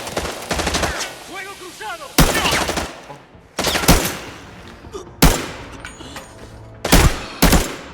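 Bursts of AKM rifle fire in the shooter game Arena Breakout: sharp, loud volleys crack out repeatedly at irregular intervals, some in quick clusters and others as single reports, with a brief stretch of faint voice between the early shots.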